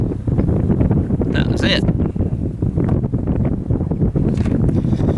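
Heavy wind buffets the microphone at an outdoor shooting range, a constant low rumbling roar beneath a man's brief speech, with a few faint higher-pitched clinks on top.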